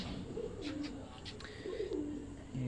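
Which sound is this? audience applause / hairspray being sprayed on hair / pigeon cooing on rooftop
pigeon cooing on rooftop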